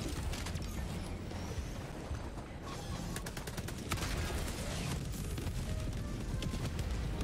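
Cluster bomb blasts in the video game Helldivers 2 crackle in a rapid, dense string of overlapping bursts, a steady loud roar of staggered detonations that continues without a break for several seconds.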